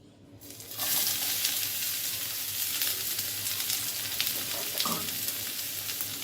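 Onion and garlic hit hot oil and erupt into a loud, bright sizzle after a brief quiet start, then keep frying with a dense, steady crackle and occasional spatters.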